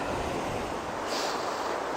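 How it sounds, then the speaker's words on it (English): Rushing water pours over Crammel Linn waterfall near Gilsland, a dense, steady roar heard close from the head of the falls, with wind buffeting the microphone. "So I'm just sort of at the head of the waterfall here."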